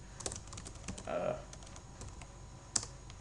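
Quiet, quick keystrokes on a computer keyboard as a password and login details are entered, a short run of taps with one sharper key press near the end.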